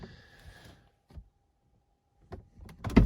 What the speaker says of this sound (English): Also focus on the door close sound.